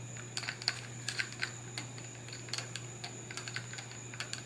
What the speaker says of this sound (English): you can kind of hear it binding